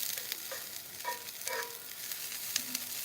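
Onions brown in a frying pan with a soft continuous sizzle, punctuated by a few light scrapes and clinks of a utensil stirring them, close and fairly quiet.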